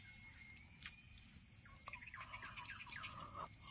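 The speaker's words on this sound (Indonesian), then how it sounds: "Suara serangga wek-wek itu" Faint, steady insect chirring fills a quiet morning outdoor scene near a garden, with scattered bird chirps and calls cutting through now and then.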